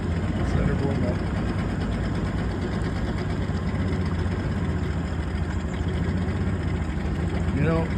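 Yamaha two-stroke outboard with an oil-leaking carburettor idles steadily while warming up, a constant low rumble running throughout at close range with faint voices in the background.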